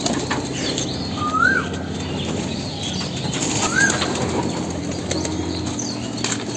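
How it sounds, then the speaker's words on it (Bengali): A released pigeon flaps its wings in flight near its loft, giving a brisk flurry of wingbeats with a couple of short whistling wing swishes, close and moderately loud over a light outdoor background. "কবুতরটা ছাইড়া দিই।"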